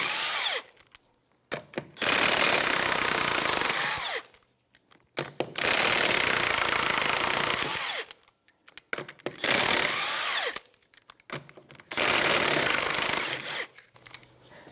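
A power tool spins off the lug nuts on a rear wheel of a 2013-2018 Toyota RAV4 2.5L with a 21mm socket, in four loud sustained bursts of a few seconds each, separated by short quiet gaps.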